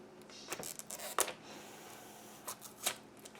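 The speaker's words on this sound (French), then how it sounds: "Je vais ouvrir la petite extension" Opening the small expansion box of the board game Ancient Terrible Thing: a few close, quiet cardboard scrapes and slides, with brief rustling bursts separated by near silence.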